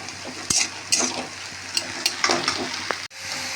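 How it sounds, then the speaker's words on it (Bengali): Bori, Bengali lentil dumplings, fry in hot oil with a loud, steady close-up sizzle, punctuated by several sharp scraping stirs before a brief dip in the sound. "বড়ি ভাজা পারফেক্ট হয়ে গেছে"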